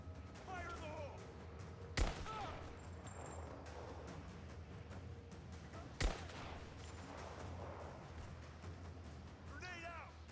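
Two isolated sharp gunshots in Rise of the Tomb Raider stand out about four seconds apart over a steady ambient background, with voices talking under the scene.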